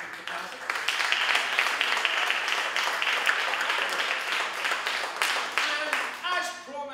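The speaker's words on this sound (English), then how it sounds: "Please give one more round of applause for all the performances that you've seen up here tonight." A cabaret crowd applauds its performers in a dense, sustained wash of clapping that fills the room and then tapers off, with a voice speaking over the applause.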